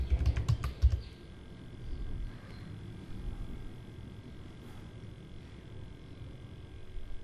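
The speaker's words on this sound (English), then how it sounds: "so let us type again sudo snap" A terminal command typed on a computer keyboard: a short burst of a few close, distinct key clicks at the start, then quiet room hum with only faint traces of further taps.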